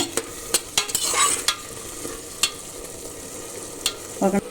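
A spoon scrapes and stirs ginger, garlic and tomato paste frying in a pan for paneer biryani, with sharp intermittent clinks over a soft background sizzle, close and without voices.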